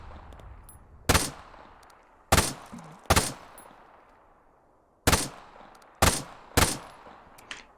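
A two-shot burst rifle in the Arma 3 video game fires several sharp, loud bursts at uneven intervals, each crack trailing into a fading echo between shots.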